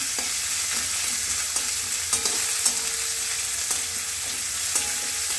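Onions frying in a pan for chicken curry, a steady close sizzle broken by periodic spatula stirring and scraping taps, no talking.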